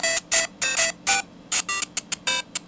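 A Motorola MOTOROKR phone plays a ringtone: a bright electronic melody of about a dozen short, clipped tones in quick bursts, fairly loud and close, with no talking over it.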